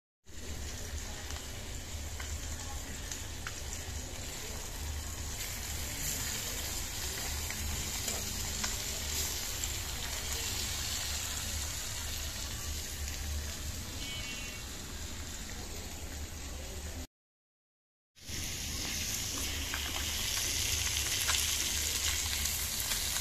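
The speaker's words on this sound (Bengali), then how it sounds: "ভাজা হইতেছে, এখানে দুইটা হয়েছে করকরা" Fish frying in a pan, giving a steady, loud sizzle and crackle that runs without a break, apart from one short silent gap near the end.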